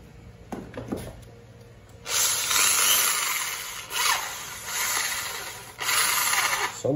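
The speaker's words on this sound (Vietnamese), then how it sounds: "Số 19 là một con khoan gỗ Matex" A Matex wood drill with a 10 mm chuck runs in short spells, its whirring motor rising to a loud buzz, dropping away, then spinning up again several times with no talking.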